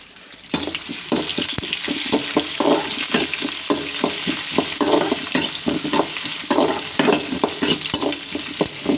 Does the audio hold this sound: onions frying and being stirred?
yes